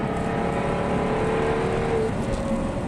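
A Jaguar XKR-S GT engine pulls hard under steady acceleration, with a continuous loud mechanical roar and a rising whine that runs for about two seconds before settling. No one speaks.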